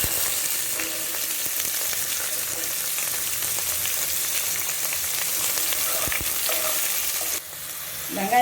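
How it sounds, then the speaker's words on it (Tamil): Sliced onions frying in oil with fennel, cinnamon, cloves, cardamom and bay leaf, a loud, continuous close sizzle with light stirring, dropping briefly near the end. "வெங்காயம் வதங்கும்போது இஞ்சி பூண்டு பேஸ்ட்டு போட்டுக்கணும்."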